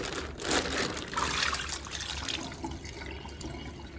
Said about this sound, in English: So we're gonna dump all that water out.